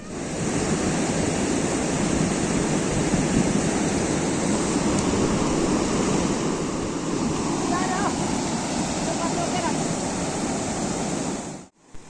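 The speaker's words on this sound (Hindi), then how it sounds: "आजकल पानी का फ्लो बहुत ही ज़्यादा है" Fast, heavy river water rushing over stones in a Jammu and Kashmir village, a loud continuous roar that fills the whole stretch before cutting off abruptly near the end.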